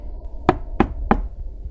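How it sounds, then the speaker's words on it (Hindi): Three sharp knocks from beneath a floor as a horror effect, evenly spaced and fairly close over a low rumbling background. "उसके कमरे की जमीन से खटखट की आवाज आ रही थी"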